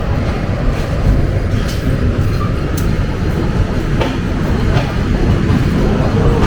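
The 754 SilkCity Express, a Bangladeshi intercity train between Rajshahi and Dhaka, rumbles along with a loud, continuous clatter of wheels on rails and faint rhythmic clicks, heard from on board.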